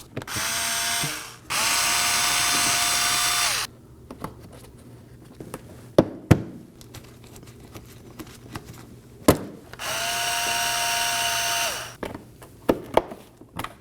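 Power tool or driver whirring in two sustained bursts, separated and followed by sharp clicks and knocks, while plastic fender liner clips are removed from a 2016-2020 Kia Sorento. No talk.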